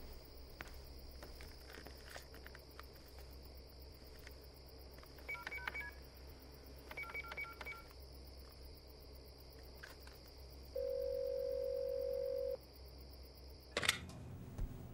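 Telephone keypad dialing tones in two short bursts, then a steady dial tone lasting about two seconds, all fairly quiet over a low background hum and faint chirping, ending with a sharp click.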